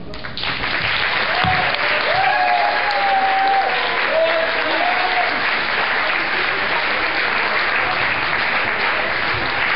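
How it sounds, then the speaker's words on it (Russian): Sustained applause from a birthday party audience fills the room, loud and steady throughout, with a few brief voices and tonal sounds rising above the clapping early on. "Еще раз аплодисменты"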